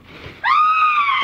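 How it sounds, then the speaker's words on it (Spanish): A woman's long, high-pitched scream in a Spanish-language audio drama, rising sharply and held steady and loud for about a second after a faint murmur. "aquel grito de Annie"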